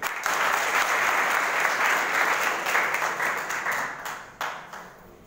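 A crowd claps steadily at a school farewell gathering, a dense, even wash of applause that holds for several seconds before thinning and trailing off with a few final claps.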